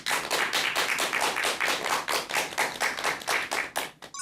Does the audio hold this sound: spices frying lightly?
no